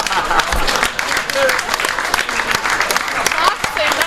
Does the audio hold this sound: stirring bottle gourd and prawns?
no